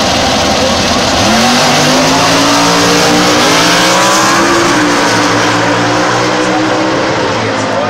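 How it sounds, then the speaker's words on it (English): A Mopar Challenger drag pack car at an NHRA national event at Bristol, a loud roaring engine blasting down the strip at full power, dense and continuous with pitch climbing through gears, crowd and announcer noise mixed in. "that big Mopar makes a humongous amount of power up top"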